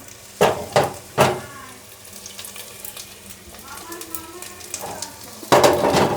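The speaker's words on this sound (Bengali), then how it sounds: "একটু তেল দিয়ে ঘুরিয়ে আমি বড়াগুলো ভেজে নেব।" Jute leaf fritters frying in extra virgin coconut oil: three sharp sizzling spurts up front, a quieter stretch of low bubbling, then a loud steady sizzle swelling at the close.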